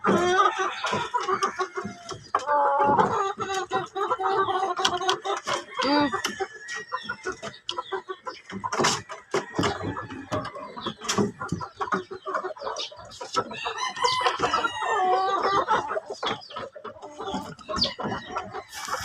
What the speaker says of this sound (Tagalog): Ay sa daming sisiw.